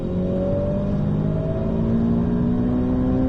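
A car accelerates hard around the Circuit de Bresse race track, its engine note climbing steadily in loud, continuous revs heard close up from on board, with no voices over it.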